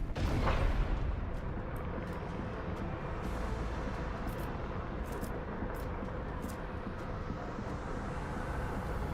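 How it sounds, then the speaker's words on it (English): Macro cannon barrage from a warship in a video game, a deep continuous rumbling roar with a sharper blast near the start and scattered crackling high bursts over the sustained low drone. "Engage the macro cannons."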